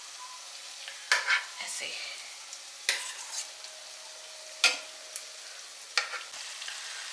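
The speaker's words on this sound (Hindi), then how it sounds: "बस अब प्याज जो है वो भुन के हल्के ब्राउन हो गए हैं" Onions browning in a hot pan for a soya chaap dinner, stirred with a spoon: a steady soft sizzle broken by several sharp scraping strokes, close by, with a brief spoken word.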